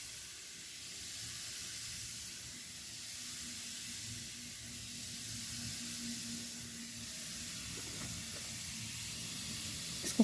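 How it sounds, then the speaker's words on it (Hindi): Vermicelli (sevaiyan) frying in hot oil for homemade nimko, a soft continuous hiss and sizzle that holds steady throughout with faint background clatter. "इसको हमने गोल्डन ब्राउन होने तक फ्राई करना है"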